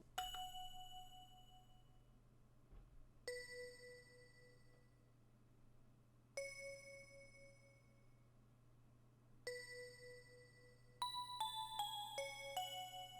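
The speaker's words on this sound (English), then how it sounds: "we're gonna make this bell pattern that sounds like this." A bell synth pattern built in FL Studio: bright, ringing bell notes struck roughly every three seconds, each decaying slowly, then a quicker cluster of bell hits near the end over a quiet low hum.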